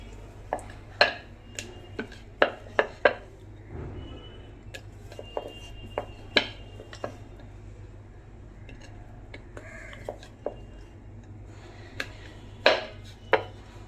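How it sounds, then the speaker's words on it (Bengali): Nimki dough being rolled out by hand for crisp fried nimki: a rolling pin knocks and clacks on the board in scattered, uneven taps, close and fairly quiet over a low steady hum. "এবার নিমকিটা বেলে নেব"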